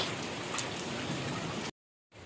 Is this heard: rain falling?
yes